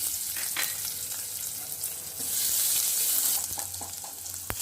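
Onions frying in oil with mustard seeds, cumin and asafoetida for a moong dal rasam, a close steady sizzle that swells midway, with a few scrapes and clinks of a spoon.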